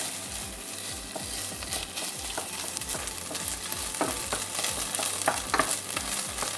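Tomato paste and browned vegetables fry in a pan, a steady close sizzle with repeated scraping and stirring strokes throughout, no talking.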